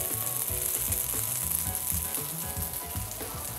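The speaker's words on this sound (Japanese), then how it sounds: "フライパンを温めて、この音、いい音ですよね。" Stir-fried salt yakisoba noodles with garlic chives and pork belly sizzle steadily in a heated frying pan, a dense continuous crackle close up with light stirring and scraping, no talking.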